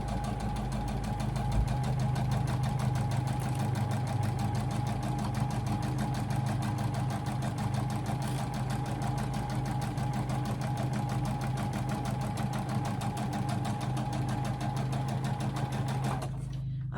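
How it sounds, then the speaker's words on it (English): A sewing machine stitches a quilt piece in a steady, continuous mechanical whir, close and loud, running without pause for about sixteen seconds before stopping abruptly near the end. "I am just going to sew right up there."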